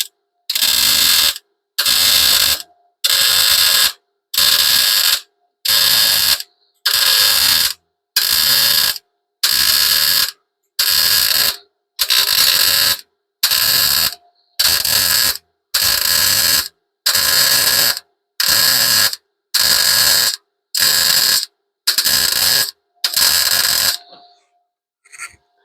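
Welding patches on a repair job: loud, evenly spaced bursts of buzzing arc, about a second each with short silent gaps, repeating some eighteen times before stopping.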